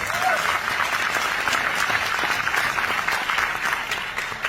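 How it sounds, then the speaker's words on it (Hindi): Loud, sustained applause from a large audience at a business success-story motivational event, a steady dense wash of clapping filling the whole moment with crowd noise beneath. "जोरदार तालियां होनी चाहिए अक्षी के लिए।"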